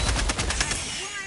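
Rapid automatic gunfire from Helldivers 2, a dense burst of shots for about half a second that then drops into a sustained noisy wash with no clear shots.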